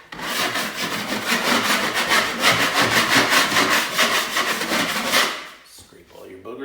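Close, rhythmic rasping strokes of a blade scraping dried patch compound off a mobile home wall continue for several seconds, then stop abruptly.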